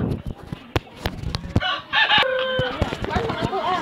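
Roosters crow and chickens, including Ayam Cemani, cluck in a busy poultry yard on a farm, with scattered sharp knocks and a person talking nearby.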